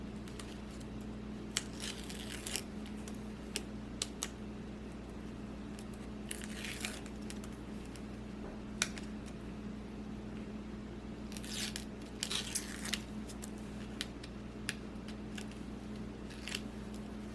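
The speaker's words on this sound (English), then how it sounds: "Let's go ahead and take off the backings." Backing strips peeled off double-sided foam tape while making a Valentine's Day card: short crisp ripping and crinkling bursts scattered over a quiet steady background hum, close up, no talking.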